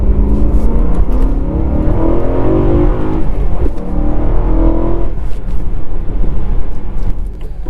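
A 2013 Melbourne Red BMW E92 M3 with a 6-speed manual revs loudly and close by, its engine note rising and falling through several swells before settling lower.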